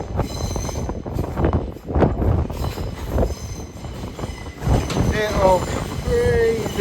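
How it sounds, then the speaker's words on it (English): A Lumo train pulls out of Newcastle station bound for London King's Cross, a loud continuous rumble of wheels and motors with rising metallic squeals from the rails near the end, heard up close. "Departing now is a Lumo service off to London King's Cross."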